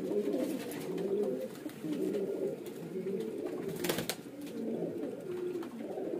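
A group of domestic pigeons for sale, including kalsire, bajre, chhapdar and ude types, coo together in soft, continuous, overlapping calls. A brief rustle or click sounds partway through.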